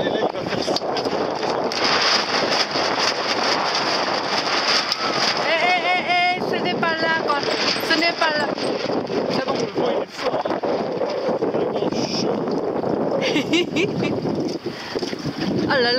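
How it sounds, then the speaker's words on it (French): Strong wind roars steadily across a sailboat racing in a regatta, a dense broadband rush with gusty buffeting on the microphone, while people talk intermittently over it. "voilà le vent, regarde ça"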